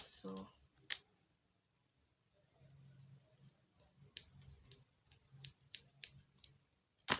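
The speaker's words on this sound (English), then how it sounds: "I'm going to take my scissors and I'm going to cut this side that we pulled through." Scissors cut through crochet yarn, giving a few quiet, sharp snips and clicks spread unevenly across a hushed room, with faint low murmuring between them.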